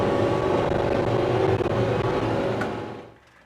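A JCB 1CXT compact backhoe loader's engine runs as a loud, steady, close rumble that tapers off and fades near the end.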